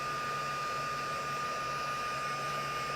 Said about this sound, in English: So if you just use your heat gun,